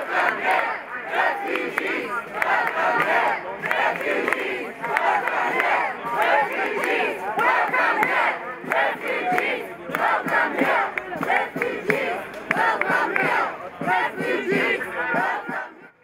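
A protest march crowd chants slogans in loud, rhythmic bursts that rise and fall continuously, many voices shouting together in unison close by with barely a pause.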